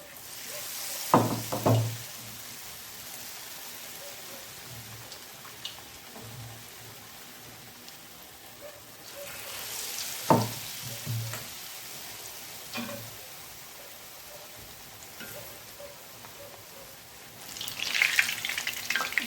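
Avli leaf bhajiya, a Khambhat-style khakhariya fritter, deep-frying in hot oil: a steady broadband sizzle runs throughout, broken by a few sharp knocks and a louder bubbling burst near the end, with no voices.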